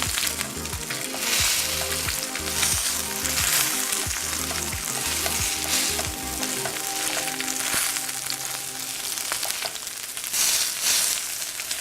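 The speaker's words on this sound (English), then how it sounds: "Hear it sizzling" Tilapia fries in a hot pan with a loud, continuous sizzle and crackle, joined by occasional stirring or scraping knocks and a low background hum.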